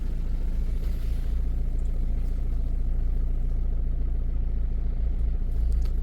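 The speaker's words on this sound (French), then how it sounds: "Malgré que le véhicule tourne." A Renault Kadjar's 1.5 dCi 110 diesel engine idles roughly at close range, a continuous low throbbing drone with slight unsteadiness and no voices over it.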